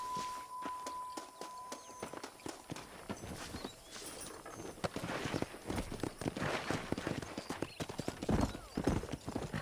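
A horse's hooves clip-clop steadily while ridden in Red Dead Redemption, starting at a walk and quickening into a louder, faster rhythmic gallop, with a brief neigh near the start.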